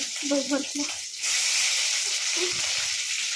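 Onions sizzle and fry in a pan for a crab fry, a broad steady hiss that swells loud from just over a second in, with a speaking voice heard briefly at the start and again near the end.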